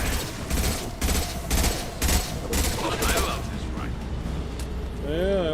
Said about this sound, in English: Yeah, I like my rifle too, Garrus. It's burst fire.